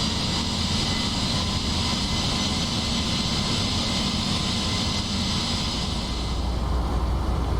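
Ryanair Boeing 737NG engines drone on final approach in the PMDG flight simulator for P3Dv5, with gear down and flaps extended. The roar is steady and continuous, with broadband rumble and hiss and no voices.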